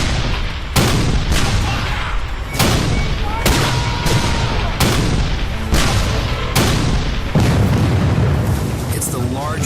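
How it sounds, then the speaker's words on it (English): Civil War cannon barrage at Gettysburg: a rapid series of about eight heavy booming cannon shots, each a sharp blast with a rumbling decay, close and loud over a continuous low roar. "It's the largest artillery barrage ever in the Western Hemisphere."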